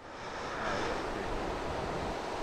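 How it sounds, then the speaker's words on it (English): A small waterfall along a dirt motorcycle trail gives a steady, even wash of splashing water, close and unbroken from start to finish with no voices. "It's like a little waterfall there"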